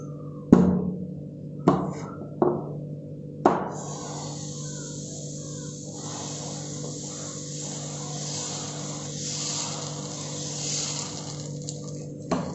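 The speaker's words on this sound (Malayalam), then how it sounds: "ഇനി അതിലേക്ക് ദോശമാവ് ഒഴിച്ചു കൊടുക്കാം." Dosa batter goes onto a hot pan on the stove: a few sharp clunks open, then a steady, soft sizzling hiss settles in and continues to the end.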